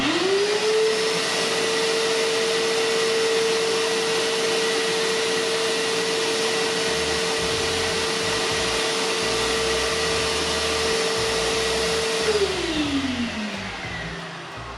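A DeWalt DXV10SA wet/dry shop vacuum whines up to speed, runs at a steady loud drone peaking around 81.8 decibels several feet away, then spins down near the end.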